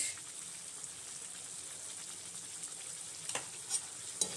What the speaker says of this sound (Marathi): तेल सुटेपर्यंत मसाले भाजून घ्यायचे।